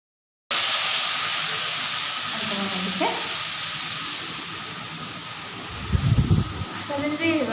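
Vegetable fry sizzling loudly on a gas flame turned up high, a dense, steady hissing roar that starts abruptly and holds throughout, with a few faint clanks and thumps near the end.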